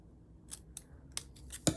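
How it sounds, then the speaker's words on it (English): Scissors snip a paper bookmark with several short, crisp cuts at an irregular pace, quiet and close, ending in one louder snip, with no speech. "I would snip it here and here"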